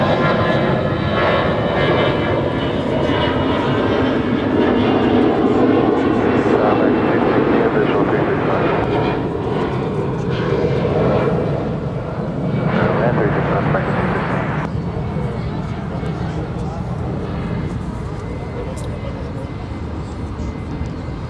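An airplane at Dallas-Fort Worth International Airport roars steadily and loudly throughout, a broad continuous engine rumble with a slight shift partway through, while people talk over it.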